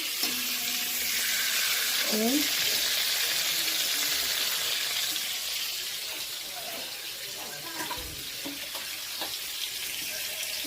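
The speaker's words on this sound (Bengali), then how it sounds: "এবার ওই ভাজছি কত বড় বড় বাগদা চিংড়ি।" Large tiger prawns sizzle in a pan, a steady close frying hiss with a few faint clinks and brief sounds over it, and no clear speech.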